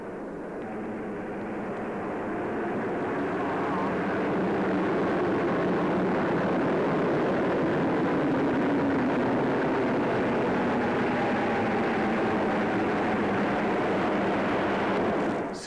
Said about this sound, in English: As squadron after squadron came over, the speed of the flypast mounted. Meteors now, and these were followed by Canberra bombers.